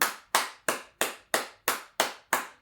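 Single pair of hands clapping slowly in church for a mother, eight evenly spaced sharp claps, close and crisp with no crowd around.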